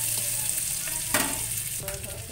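Garlic, ginger, green chili and capsicum frying in oil in a pan, a steady moderate sizzle with brief stirring scrapes, no talk.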